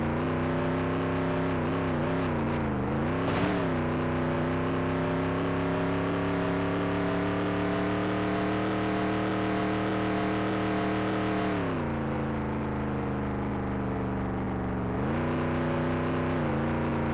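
In the Nascar 98 racing video game, a stock car engine drones loud and steady through a qualifying lap. The pitch holds high for long stretches and dips briefly as the car lifts off for corners before revving back up.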